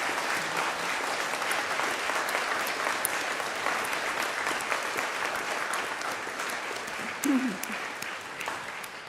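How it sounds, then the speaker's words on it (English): Congregation applauding during a Flower Communion service, a steady wash of many hands clapping throughout, with a brief voice rising near the end. "So let's give them a round of applause."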